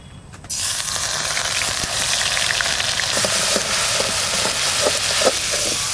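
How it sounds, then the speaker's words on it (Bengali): Cardamom, cloves and onion paste hit hot oil in a pan for an egg korma, bursting into a loud, steady sizzle after a brief quiet start, with small pops and crackles throughout and no voices. "এলাচ লবঙ্গ পেঁয়াজ বাটাটা দিয়ে দিচ্ছি।"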